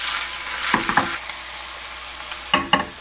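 Soy sauce seasoning with jin-ganjang bubbling in a pan for braised tofu, heard as a soft frying hiss broken by short clattering stir sounds in two brief clusters.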